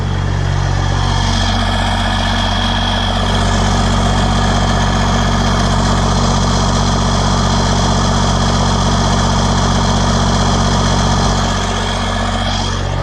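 A big turbo diesel truck engine, a 12-valve, idles steadily and loudly throughout, a deep rumbling drone with a faint turbo whistling tone riding on top, no voices.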